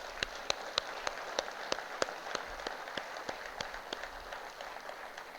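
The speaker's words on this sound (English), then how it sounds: "I would request you to applaud them" Faint audience applause in a hall at a natural farming program, a soft wash of clapping with distinct, fairly regular sharper claps standing out, and no talking.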